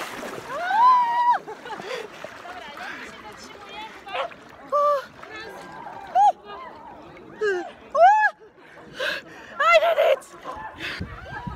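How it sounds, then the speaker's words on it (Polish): A person wades into cold water in Poland during winter ice swimming, with faint splashing under excited talk, gasps and laughter from several people. "No i teraz wchodzimy do wody."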